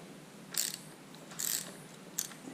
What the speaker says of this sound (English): Next we're going to undo the throttle because I have to change my throttle cable